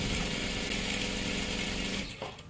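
Sewing machine stitching salwar fabric, a fast continuous mechanical whir with rapid needle chatter that runs steadily for about two seconds, then slows and stops with a few clicks.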